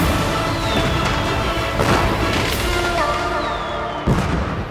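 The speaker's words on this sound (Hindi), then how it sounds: "अरे बंद करो आतिशबाजी।" Fireworks burst in a dense, continuous barrage of booms and crackles with whistling streaks, loud and sustained, ending in one sharp bang.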